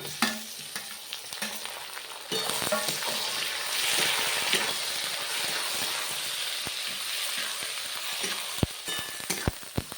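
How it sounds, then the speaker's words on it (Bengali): Onions and chopped tomatoes fry in a pan for a chicken tadka, giving a steady, close sizzle with occasional clicks of stirring and utensil taps, no voices. "দেখুন বন্ধুরা টমেটো পেঁয়াজ সব ভাজা হয়ে গিয়েছে"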